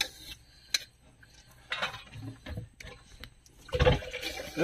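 Rice and curry being served at an evening meal by the river in the Sundarbans, with utensils clattering against metal dishes and pots in scattered near, fairly loud clinks and scrapes.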